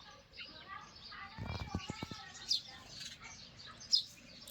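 A few short, high house sparrow chirps ring out now and then around a bird feeder over a murky outdoor background, with people talking nearby.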